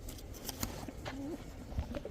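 Soft, low pigeon cooing, a few brief coos rising faintly over steady background noise.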